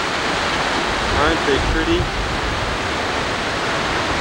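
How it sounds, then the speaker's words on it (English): A waterfall near Port Angeles roars as a steady broadband rush of falling water, loud and constant, with a person speaking briefly over it. "now we can see the falls."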